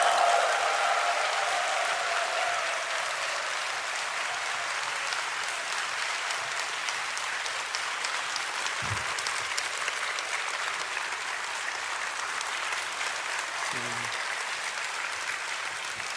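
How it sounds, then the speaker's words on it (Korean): A church congregation welcomes a visiting pastor with sustained, dense applause and cheering that fills the hall evenly for a long stretch, with faint voices mixed in. "크게 한번 박수와 환호성으로 목사님 맞겠습니다"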